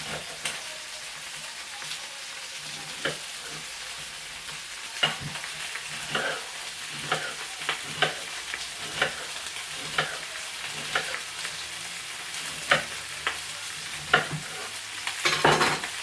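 Sausages frying in a pan, a steady soft sizzle with scattered scraping stirs and knocks as they are moved around, close and unhurried, no talking.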